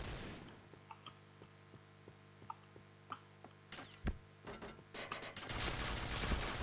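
Gunfire in the online shooter PointBlank: evenly spaced single shots tick steadily at first, then give way to louder, denser bursts of rapid fire that build toward a continuous barrage.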